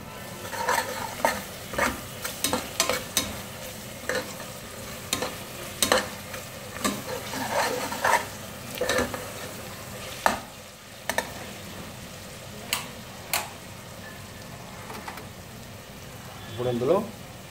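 Ginger-garlic paste and garam masala powder stirred in a hot pan ahead of mutton, a soft sizzle under repeated scraping strokes and light metal taps at an uneven pace, close by, with a voice speaking faintly at times.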